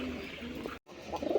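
Rasgolla pigeons, a male and a large female, coo softly and close by in a short low murmuring burst, broken by a brief silent gap, then rising again and growing louder at the end.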